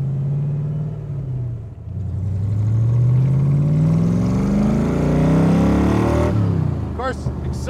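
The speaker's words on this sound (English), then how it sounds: "Of course, accelerator's working good. I tell you, it pulls so hard." A 1965 Shelby Cobra Factory Five replica pulls hard under acceleration, its engine note rising steadily in a loud, close run before easing off near the end.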